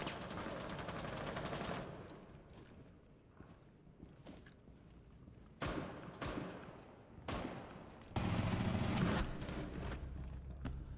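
Video game gunfire: sharp bursts of shots in quick clusters separated by quieter stretches, with a louder sustained passage near the end and no talk.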